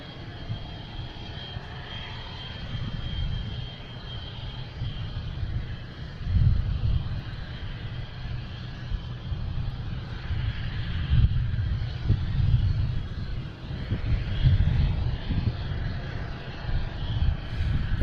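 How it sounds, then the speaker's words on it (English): Air France jet on runway 33 left at Boston Logan, a broad engine roar that swells and grows louder across the span as the takeoff run builds, with no voices. "Also have Air France lined up to take off on 33 left."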